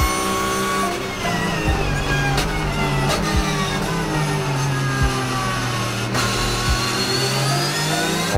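A race car engine revs hard at the Hockenheimring in busy traffic, rising and falling through sharp gear changes, loud and close, with several distinct shifts and some tire noise mixed in.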